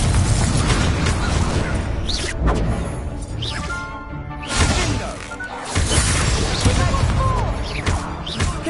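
Confringo spell blasts in a Hogwarts video game: a string of loud booming explosions with shattering, crashing debris, one blast after another over several seconds, close and dense.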